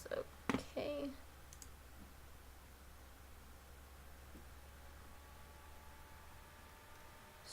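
A computer mouse gives a quick cluster of sharp clicks right at the start while someone searches birth and marriage records, then only a low steady room hum remains.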